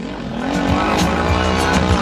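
A hill-climb competition machine's engine runs hard and steady at high revs, a loud, continuous rasping drone with faint whining and squealing on top as it struggles for grip.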